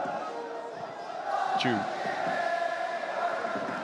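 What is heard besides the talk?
football stadium crowd cheering excitedly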